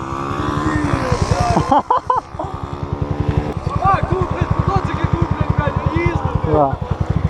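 A new Lifan motorcycle roars close by during a motorbike race, its engine droning loud and steady with rhythmic revving pulses while people talk over it.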